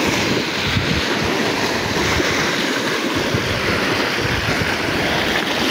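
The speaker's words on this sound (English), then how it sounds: "right now the lake is very angry. The wind is changing slowly by slowly" Rough, wind-whipped lake surf churning continuously, a dense, steady roar of breaking water mixed with gusty wind buffeting the microphone, loud and close throughout with no voices.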